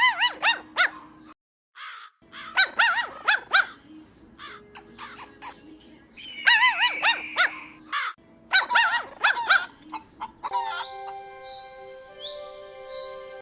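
Crows caw in repeated harsh bursts, several calls in quick clusters separated by short gaps, loud and close, with other bird chirps mixed in and a brief tonal passage near the end.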